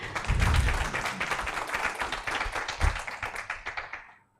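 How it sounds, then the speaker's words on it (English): Audience applause closing a legal litigation training session, a burst of steady clapping from many hands that swells, carries on, and fades out at the end. "Final applause."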